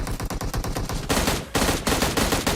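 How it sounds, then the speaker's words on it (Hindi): Rapid machine-gun fire from an M16-style rifle in a battle royale shooter game, a close, loud, rhythmic burst of shots, then a brief pause and a denser volley of overlapping gunfire. "भैया सामने से फायरिंग की साउंड आ रही थी"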